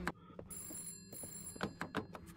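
A telephone rings inside a VRChat horror map, its bell tone repeating in several sharp bursts over a steady low ambient hum, with no talking.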